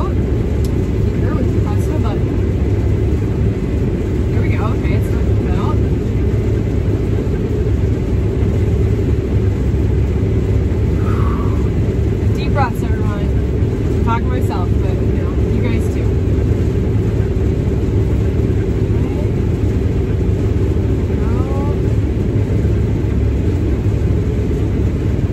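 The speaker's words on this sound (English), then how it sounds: "Alright, so I'm going to put my auger out." A combine harvester engine drones loud and constant with the unloading auger swung out while approaching a grain cart, a steady heavy rumble throughout with faint talk and small clicks on top.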